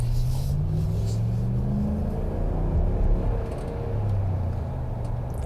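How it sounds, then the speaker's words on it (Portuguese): A deep Hemi V8 engine in a RAM Classic pickup rumbles close by, its low drone rising in pitch as it accelerates, then holding a steady roar. "olha como é gostoso o barulho do motor"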